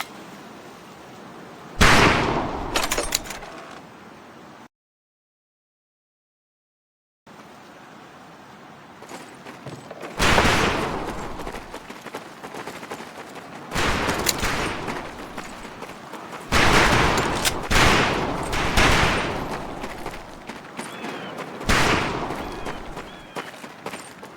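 Rifle fire on a range in Medal of Honor: Pacific Assault, a World War II shooter: sharp loud shots ring out in irregular bursts, some single and some clustered, with a short silent gap early on and a faint game ambience between shots.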